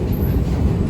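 Helsinki metro train rumbling steadily at a station as a passenger exits, a dense low roar filling the space with a faint high whine above it.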